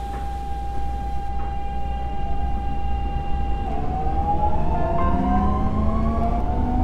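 A Cool Metro Line 15 train bound for Namyangju Court pulls away from the station between Gyeyangsan and Namyangju Court, its motors whining in several steady tones that climb in pitch as it speeds up over a constant low rumble.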